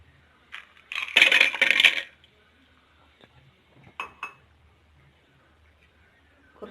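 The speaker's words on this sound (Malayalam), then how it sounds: "ഞാൻ കുറച്ച് ഐസ് ക്യൂബ് ഇടുന്നുണ്ട്." Ice cubes are dropped into a blender jar while making passion fruit juice: a short burst of hard clattering clinks, then a few scattered knocks and taps, close and fairly loud over near silence.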